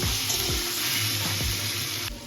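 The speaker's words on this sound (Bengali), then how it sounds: "এবার আমি জল দিয়ে দিচ্ছি" Water poured into a hot pan of frying spices with cumin powder for a Bengali bata fish curry, a loud continuous sizzle and hiss close up, with a few soft clinks of stirring.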